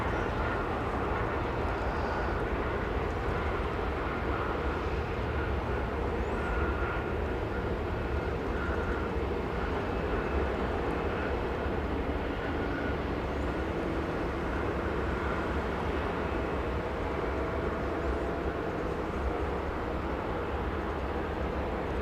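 A Singapore Airlines jet spooling up to takeoff power at Los Angeles International Airport, a steady broadband engine roar holding loud and continuous from a distance with no talk over it.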